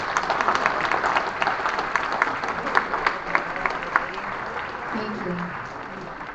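A Liberty Tea Party Patriots audience gives a round of applause, dense clapping that gradually thins, while a voice speaks briefly over it.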